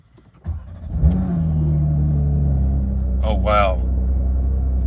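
A 2023 Porsche GT3 flat-six engine cranks, catches and settles into a loud, steady idle close by, with a short blip of revs; a person speaks briefly over it.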